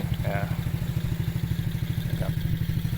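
Nearly new three-wheeled motorcycle with only 80 km on the odometer being driven, a steady close engine chug with a regular low pulsing rhythm throughout, and brief voices on top.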